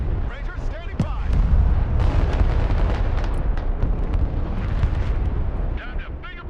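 Artillery in the video game Broken Arrow fires repeatedly, heavy booming blasts and rolling rumble filling the clip, with game radio voices speaking over it.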